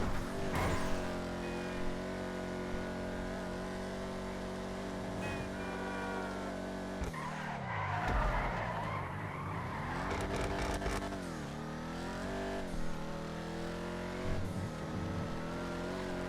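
A fully upgraded Vapid Dominator GTX muscle car in GTA Online drones with a loud, continuous engine tone, with tyre skids and shifting revs swooping up and down midway.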